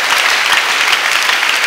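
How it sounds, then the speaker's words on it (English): Loud, close congregation applause at a church testimonies service, dense continuous clapping from many hands filling the whole short stretch. "Clap for Jesus."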